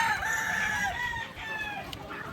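Roosters crow in drawn-out overlapping calls with chickens clucking around them at a chicken farm, fairly close and loud, no talking.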